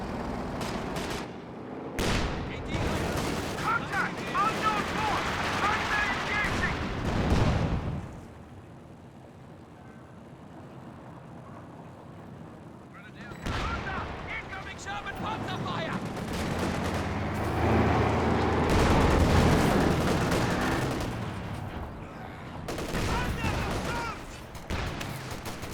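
Panzer IV tank cannon blasts and gunfire in a Company of Heroes 2 1v1 match, loud bursts of combat under continuous commentary talk, with a quieter lull in the middle.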